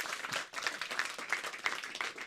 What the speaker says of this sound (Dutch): Iris Kroes, dames en heren, jouw hard applaus.